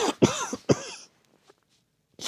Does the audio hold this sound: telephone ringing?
no